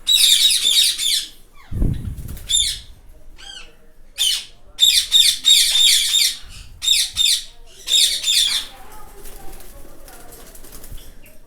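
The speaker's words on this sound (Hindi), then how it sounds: "इसमें ब्लू रिंगनेक, येलो रिंगनेक, क्रीमिनो और वाइट रिंगनेक के पेयर लगे हुए हैं सारे।" Blue, yellow, creamino and white ringneck parrot breeding pairs at a breeding farm give loud, shrill squawks in repeated bursts, close and harsh, with a low thump and wing flutter partway through.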